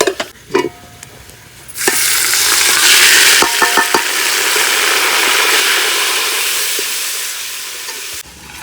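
Onions and masala frying and being stirred in a pot in a village kitchen, a loud sustained sizzle rising after a few clanks, with scraping stirs and a metal knock near the end.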